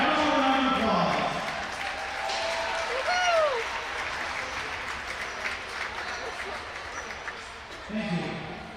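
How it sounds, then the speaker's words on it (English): A crowd at a RoughRiders versus Quad City Blues hockey game applauds in a steady wash of clapping, with a voice over the arena speakers and a brief whistle-like tone rising through it. "Another round of applause."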